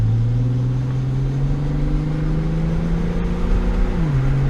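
A 2003 Acura CL Type S engine pulls steadily under load while driving, its tone climbing slowly and then dropping as the gear changes near the end, with a constant rumble close by and no talk.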